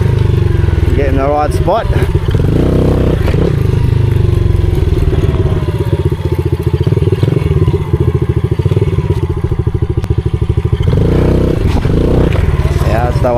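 Pit bike engine running through a flat-track ride on a rifle range, steady buzzing drone with a gear shift into second, brief revs and clatter, a voice talking over it.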